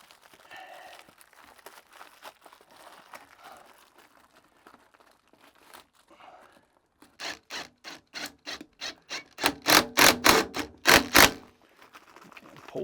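Worm drive clamp being tightened on flexible vent duct for a Panasonic Whisperfit bathroom fan, soft rustling at first, then a close run of rapid rhythmic ratcheting clicks that grows louder toward the end.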